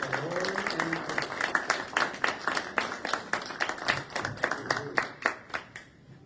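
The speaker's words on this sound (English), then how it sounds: "So, a nice round of applause," A live audience claps warmly at a school choice event in Wisconsin, a dense, steady patter of many hands that keeps going for several seconds and then thins out and fades.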